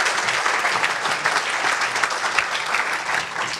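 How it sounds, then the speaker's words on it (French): Warm applause from the audience at the Pierres d'Or 2021 awards ceremony, a dense, sustained wash of clapping from a large crowd, steady throughout. "On les applaudit tous les quatre chaleureusement."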